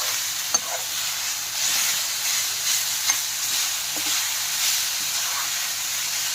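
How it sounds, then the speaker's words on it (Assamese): Dried jute leaves (hukuta) frying in a pan over a gas flame, giving a steady close sizzle and hiss with a few soft stirring clicks throughout. "শুকুতাখিনি প্ৰথমতে ভাজি ল'ব লাগিব।"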